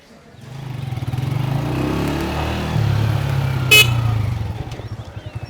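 A motorcycle engine starts up and runs steadily nearby for a few seconds, a low throbbing rumble that rises slightly, with a brief horn-like beep near the end.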